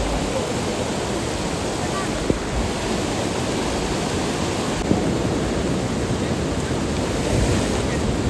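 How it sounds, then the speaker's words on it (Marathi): A river current rushes strongly along a trail near Mahuli Fort, producing a loud, unbroken roar of water mixed with some wind buffeting on the microphone. "नदीचा प्रवाह"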